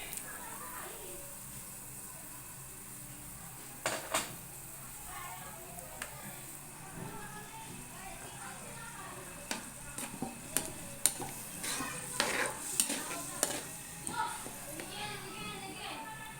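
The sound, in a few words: coconut milk added to pan, stirring and sizzling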